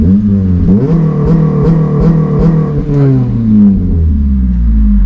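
A Honda Civic FN2 Type R on a dyno, engine revving hard and loud with rising pitch through several gear changes, brief dips between pulls, then a steady high drone at full throttle.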